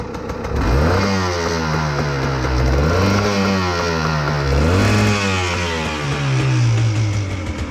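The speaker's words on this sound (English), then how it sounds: "Well, I've actually got it started, but you won't rev." A Honda CRM 250 two-stroke motorcycle that won't rev runs close by, its engine note wavering and rising and falling unevenly throughout, with no talking.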